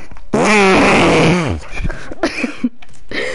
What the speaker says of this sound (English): Did you fart again?